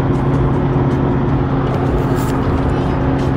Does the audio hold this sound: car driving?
yes